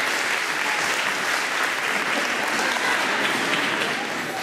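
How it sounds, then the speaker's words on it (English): Dense, steady applause from a large audience clapping hands at a church ordination anniversary reception, continuous and even throughout with no break. "We clap our hands for the Lord."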